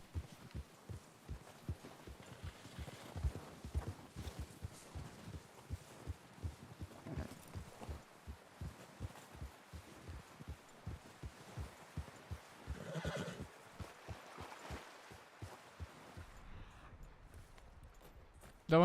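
A horse in a Red Dead roleplay game whinnies and stamps its hooves in a stable, giving a rapid run of close thumping hoof beats with a neigh rising briefly near the end before things go quiet.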